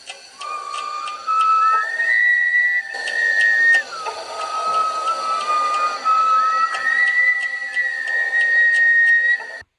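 Villagers whistle at night, a thin sustained tone that slides between pitches in long held phrases, fairly clear over a quiet, still background.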